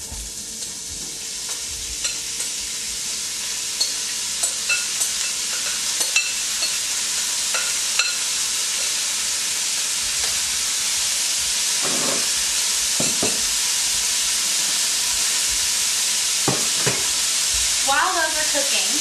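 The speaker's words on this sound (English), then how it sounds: "Watch out for the sizzle when your vegetables hit the grease." Loud, continuous sizzling of vegetables frying in hot bacon grease, with occasional pops and utensil scrapes as they are stirred.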